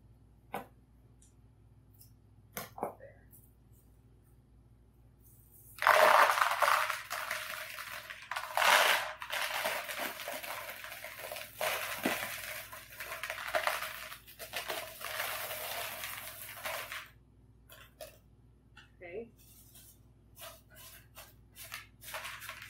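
Rocks dropped into the base of a homemade cauldron decoration to weigh it down, giving a run of hard clunks, scrapes and crinkling plastic rustle close by, with scattered knocks before and after.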